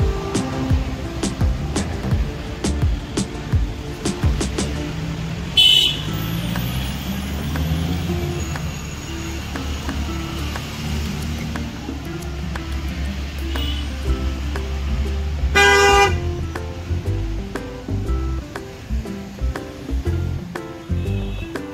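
Road traffic near a railway crossing on the way to Matheran: engines of cars, trucks and buses rumbling steadily close by, with brief louder bursts like horns or air brakes around the middle and later.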